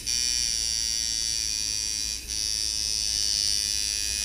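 Sidewinder rotary tattoo machine running at about 5.5 volts, a steady high-pitched electric buzz close to the mic with a brief dip midway, alone without talk.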